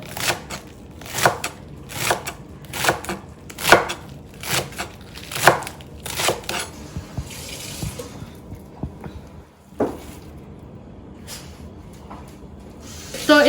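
A knife thinly slicing vegetables such as green peppers and capsicum for spring rolls, giving a quick series of crisp, close chopping taps against a board, then a pause and a few scattered knocks.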